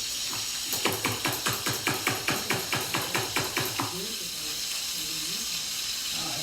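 Chicken for chicken cacciatore sizzling and browning in a pan, a steady hiss throughout with a regular rhythmic clicking or tapping running over it for several seconds, then fading.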